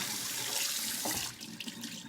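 Tap water running over a cast iron skillet in a sink as it is washed, a steady close splashing stream that breaks up and spatters toward the end.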